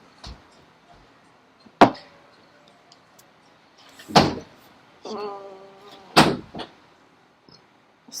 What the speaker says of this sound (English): Can you shut my door, please?